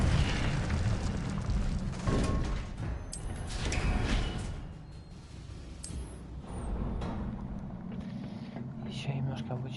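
Incendio fire spell cast in the video game Hogwarts Legacy, heard as loud, close bursts of booming, roaring flame early on that fade into a softer rumble and crackle.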